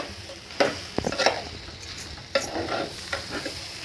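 Spiced masala mixture for Maharashtrian masala rice stirred in a pan over low heat: a few sharp spoon scrapes and clinks against the pan over a faint sizzle, close and distinct across a few seconds.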